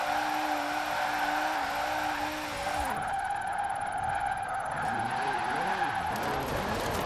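In Forza Horizon 4, a Formula Drift RTR Mustang holds a long slide, its tires squealing steadily and loudly while the engine note drones, then wavers into uneven revs near the end.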